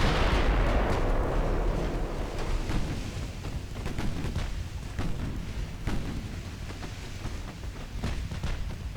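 Naval gunfire in the video game Ultimate Admiral Dreadnoughts, a battle aimed at the ship Falmouth: a dense roll of booming salvos and distant explosions, heavy at the start and continuing in irregular thuds.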